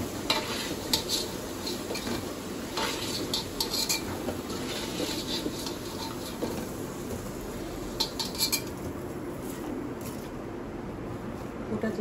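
Potatoes fry and get stirred in a pan: a steady close sizzle runs throughout, broken by repeated scrapes and light metallic clinks of a utensil against the pan.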